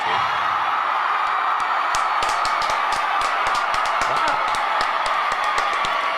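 A large crowd at a Trump rally claps and cheers continuously in a dense roar, with scattered sharp claps and whoops standing out across the whole stretch. People talk faintly over it.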